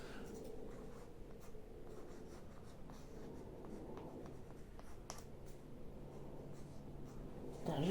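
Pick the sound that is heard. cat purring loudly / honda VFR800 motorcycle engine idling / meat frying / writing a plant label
writing a plant label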